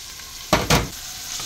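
Chopped vegetables go into a hot pot with ginger and thyme for shrimp fried rice, giving two quick bursts of sizzling and stirring that settle into a soft, steady fry with no talk.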